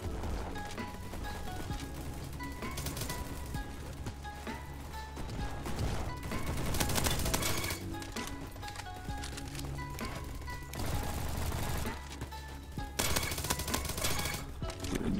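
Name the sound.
FAMAS gunfire in video game Roblox Bad Business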